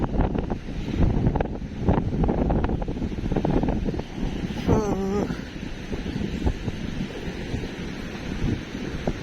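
Strong wind buffets the microphone in a steady roar at a beach in Kuwait, with surf rumbling underneath and a brief shrill whistle-like sound midway.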